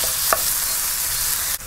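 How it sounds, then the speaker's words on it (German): Ground meat frying in a Petromax Atago stove pot, a steady close sizzle and crackle with a brief stirring scrape near the start and a short knock near the end, no talk. "unser Hackfleisch brät jetzt hier fröhlich vor sich hin"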